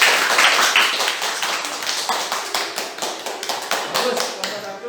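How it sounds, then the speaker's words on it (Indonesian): A group of students in a school physical education lesson claps together, a loud, fast, slightly uneven patter of many hands that fades a little over five seconds, with voices mixed in. "Tepuk tangan dulu untuk kelompok 1."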